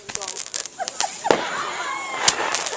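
Fourth of July backyard fireworks crackle, whistle and pop in quick bursts near the listener, with a brief sharp bang, while people talk and shout.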